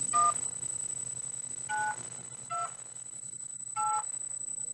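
Short DTMF tone bursts, four of them spaced about a second apart, come through a linked amateur radio repeater over a steady hiss and a high carrier whine, with no talking.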